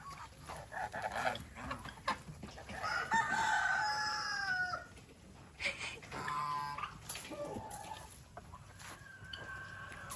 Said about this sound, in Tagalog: Ito yung pabo na yun, oh.